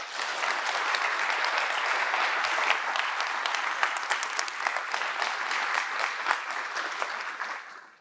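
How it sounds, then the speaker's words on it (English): A conference keynote audience breaks into sustained, dense applause, many hands clapping loudly together before it fades away at the end. "Next up, we want to give a round of applause for our technical track."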